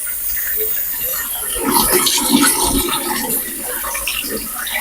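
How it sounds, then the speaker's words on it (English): Red lentils being rinsed in water, a steady rushing, splashing wash of running water that swells in the middle and continues evenly throughout, close by with no talking. "So it's just good to rinse your beans."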